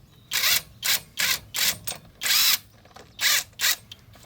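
A pneumatic air tool drives a brake bolt in on a Toyota Camry during a DIY brake repair. It fires in about seven short, loud bursts with brief pauses between them, and no one speaks.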